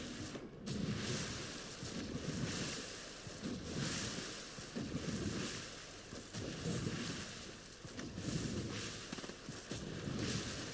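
A character swims through water in the Fortnite video game, producing a continuous rhythmic sloshing and splashing with surging wave-like swells at moderate volume, no voices over it.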